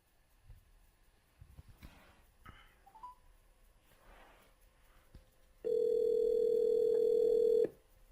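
A phone call placed through a Devialet speakerphone, with quiet handling noise and soft clicks giving way to a steady, loud dial tone that holds for about two seconds and then cuts off.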